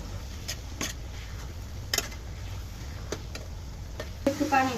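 Rohu fish being fried in a spice paste, a steady soft sizzle with sharp intermittent stirring clicks and scrapes, a louder clatter near the end.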